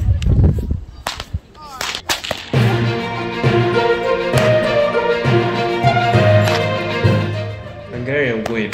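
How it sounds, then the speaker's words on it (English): A Hungarian whip with a wooden handle and an iron tip gives a few loud, sharp cracks at close range near the start, followed by a sustained tonal, voice-like sound that carries on to the end. "Hungarian whip is combined with wooden handle and shoot iron on the end of it, so that makes this sound even louder"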